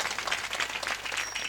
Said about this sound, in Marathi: त्यांच्यासाठी कडकडून जोरदार टाळ्या वाजवा